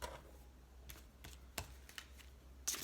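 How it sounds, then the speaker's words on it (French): Oracle cards are cut and five are drawn from the deck, producing faint, soft snaps and light slaps of card stock at irregular intervals over a quiet room background. "Je coupe et je tire ces 5 cartes."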